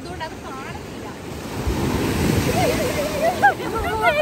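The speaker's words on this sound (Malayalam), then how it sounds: "നല്ല തിരയാണ് ഗൈസ് ഈ സമയത്ത്." Sea waves break and wash onto a beach as the evening tide comes in, a continuous rolling surf with wind buffeting the microphone, while voices are heard faintly over it.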